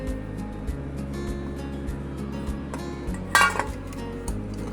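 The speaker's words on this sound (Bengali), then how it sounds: "এবার দিয়ে দিচ্ছি আস্তে আস্তে দিতে হবে আর মেশাতে হবে" Flour, baking soda and baking powder are mixed in a bowl, giving a soft, regular rhythm of close scraping and tapping strokes with one brighter clink of utensil against the bowl near the end.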